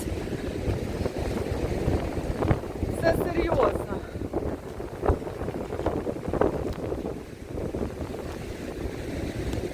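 Rough winter sea waves washing over a pier in Odesa in strong wind, with heavy wind buffeting and the churning wash of water, a brief voice speaking over the turbulent noise.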